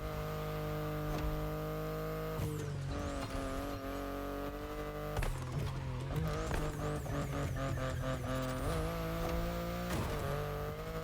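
A BMW i8 driven hard in The Crew Motorfest, its engine whine climbing steadily through gears with abrupt shift breaks, plus fluttering rapid revs and whooshing passes, loud and up front.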